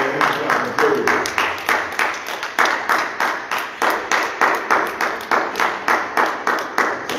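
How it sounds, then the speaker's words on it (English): A church congregation claps in praise during a sermon, a loud, even, rhythmic run of about twenty-five claps in unison, with no speech over it. "give God a hand clap of praise."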